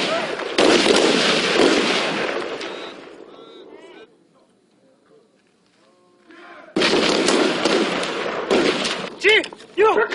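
Army cadets fire rifles during 2001 basic military training at the Korea Military Academy, with two long stretches of loud, dense, crackling shots separated by a quieter pause, and voices audible between and over the bursts.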